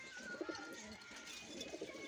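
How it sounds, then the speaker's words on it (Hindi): Soft, low cooing of a male high flyer pigeon rises twice against a steady background hiss, with a few faint chirps in between. "ये देखो, नर कबूतर है।"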